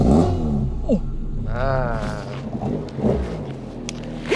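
A Honda Civic Type R FL5 revs hard at launch against its soft limiter near 3,500 rpm, its loud engine note surging and climbing in pitch midway, with faint voices underneath.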